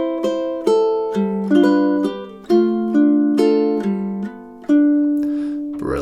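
Measures 21 to 24 of Cielito Lindo picked out on a ukulele, a short melodic run of plucked notes with ringing sustain, close and clear, ending in a brief scuffing noise.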